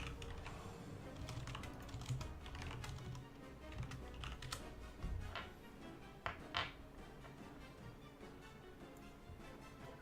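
Rapid typing on a computer keyboard, a steady run of close, light key clicks with a few sharper, louder taps throughout, heard alone without voices.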